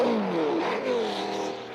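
A 1967 Formula 1 race car driven by Chris Irwin comes into the pits at Mosport Park during the Canadian Grand Prix, its engine note droning and sliding downward in pitch with steady, fairly loud whirring and no talk over it.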